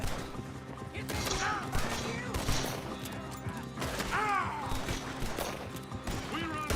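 Gunfire from the Red Dead Redemption 2 video game cracks out in irregular bursts amid game music, clattering effects and voiced dialogue, all fairly loud and busy throughout.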